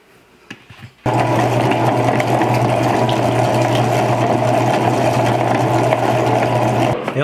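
An electric meat grinder grinding meat for burgers starts abruptly after a few handling knocks, then runs as a loud, steady motor hum with a churning mechanical texture before stopping.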